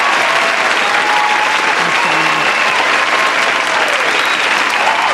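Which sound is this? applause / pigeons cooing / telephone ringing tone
applause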